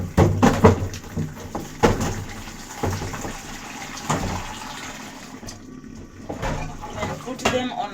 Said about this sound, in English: The potatoes were washed previously, so they're not that way very dirty, but let me rinse them